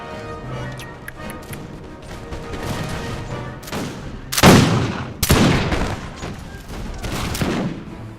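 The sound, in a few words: musket gunfire in the video game Empire Total War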